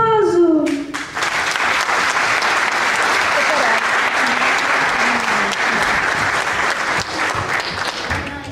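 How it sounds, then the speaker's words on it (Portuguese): An audience at a Portuguese school finalists' show breaks into loud, sustained applause that fills the hall, following a few spoken words at the start. "um aplauso!"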